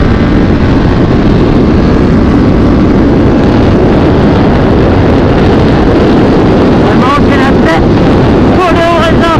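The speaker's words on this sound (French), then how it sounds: "Allez, je réaccélère, je rentre dans la moto." Motorcycle accelerating on a race track at a Dijon track day, a loud, sustained engine roar buffeted by heavy wind noise at the helmet, with a rider's voice faintly audible beneath.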